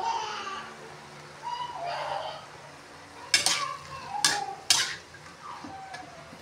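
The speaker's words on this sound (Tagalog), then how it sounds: "Simpleng gisa-gisa." Vegetables and kikiam sauté in a pan for pancit, with a soft sizzle under stirring and three sharp utensil scrapes and clanks against the pan.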